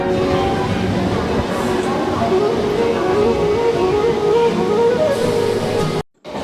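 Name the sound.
moving train heard from window seat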